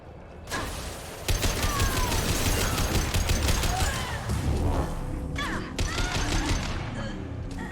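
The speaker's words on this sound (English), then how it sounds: "Not a very powerful shotgun, is it?" Shotgun fire in Mass Effect 2 cracks out in a rapid series of sharp blasts with mechanical clatter and creaks, dense and loud after a brief quiet start.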